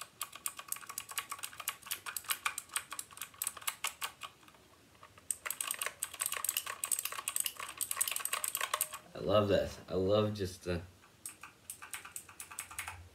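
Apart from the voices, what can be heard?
typing on a new computer keyboard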